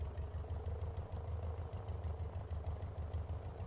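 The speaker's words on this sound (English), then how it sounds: "Oh, the poor engine. I can kind of hear that struggling." A BC-12D aircraft engine labours in the cold with a rough, uneven low drone and a faint knocking clatter, steady and fairly quiet throughout with no talking.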